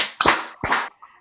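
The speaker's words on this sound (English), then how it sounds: "Can we get 2 claps" Two sharp, close hand claps ring out about half a second apart, loud and crisp, followed by a faint trailing sound.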